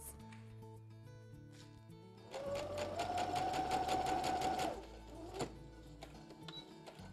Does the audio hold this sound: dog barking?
no